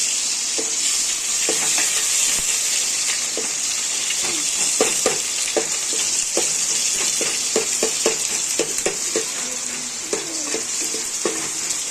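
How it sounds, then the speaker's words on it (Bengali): Chopped onion frying in a pan with bay leaf, a steady close sizzle with repeated scraping and stirring taps of a spatula throughout. "আমি পেঁয়াজ কুচিটা দিয়ে দিচ্ছি। তেজপাতা দিয়ে দিয়েছি।"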